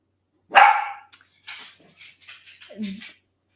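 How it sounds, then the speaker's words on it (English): A dog barks indoors, one loud sharp bark followed by several softer, shorter yelps and a low whining bark, close by with quiet gaps between. "The dog is not, the doggy cannot relax."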